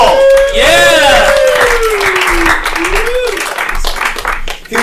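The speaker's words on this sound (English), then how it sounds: "Give a round of applause for Mike All." A comedy show audience applauds the next comedian as he is brought up, a loud whooping voice riding over the crowd's clapping and cheering.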